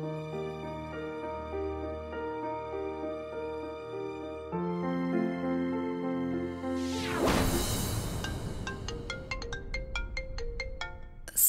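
A phone ringtone plays loudly and alone for several seconds, a steady melodic tune that shifts into a brighter chiming, repeating pattern near the end.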